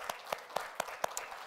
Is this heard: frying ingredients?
no